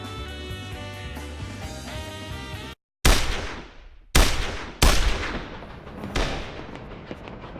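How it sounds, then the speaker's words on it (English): Anime gunfire and machine guns from Baccano follow a stretch of music, with four loud, sharp blasts that each trail off before the next. "It's guns! I love guns! Machine guns?"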